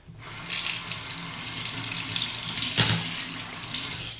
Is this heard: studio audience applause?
no